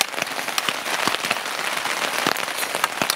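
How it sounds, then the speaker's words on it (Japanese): Rain falling on a snowy winter campsite at about one degree, a dense steady patter of drops on surfaces with scattered louder close hits, alone without talk. "雪中キャンプ中に雨が降るってどうなんやろな"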